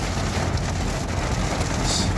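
Steady, dense rain falls on surfaces outdoors, a loud continuous patter with occasional sharper drops and no talking.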